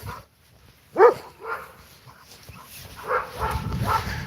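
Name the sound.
dog barking and whimpering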